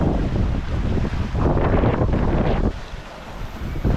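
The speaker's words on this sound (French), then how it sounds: "on est en train de se prendre un grain magnifique" Strong squall wind of 13 to 20 knots roars and buffets the microphone on a sailboat at sea near the equator, with rushing water beneath, loud and continuous without speech.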